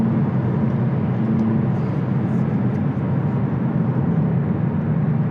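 A Honda Civic Type R FL5 accelerates after a downshift, its engine a steady, loud droning roar with road and wind noise, constant throughout without pauses.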